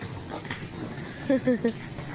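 A dog gives three quick, short yips in succession against quiet background noise.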